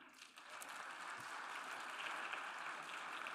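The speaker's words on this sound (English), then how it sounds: "Round of applause for them." A conference audience at an African protected areas congress applauds steadily, a faint, distant wash of clapping that holds evenly throughout.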